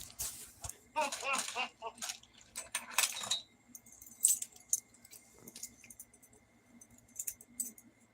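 A bunch of keys jangles and clinks in close, bright bursts for several seconds, then gives way to quieter scattered metallic taps and light handling noises in a room.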